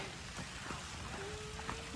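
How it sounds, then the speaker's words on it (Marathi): Rain falls faintly on a trek toward Kalavantin Durg and Prabalgad fort, a quiet, steady patter of drops with a thin tonal whine in the background and no talking. "पाऊस लागतोय."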